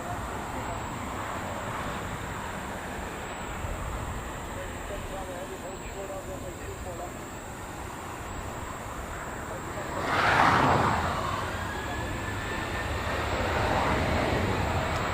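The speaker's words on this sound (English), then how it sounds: "A380, 747's landing just like that." A380 and 747 airliners landing at LAX, a distant broad jet roar with passing traffic, swelling briefly louder partway through, while a voice talks over it.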